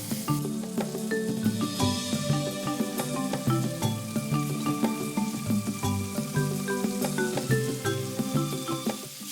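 Seared scallops, just turned over, sizzle in a hot pan; the continuous frying crackle sits beneath louder tonal background music throughout.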